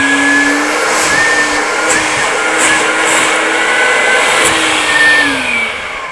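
A professional auto detailing extractor with a heated 120 PSI pressure pump runs its vacuum: a loud, steady, close-up whirring roar with a faint tonal whine that holds even and drops off slightly at the end.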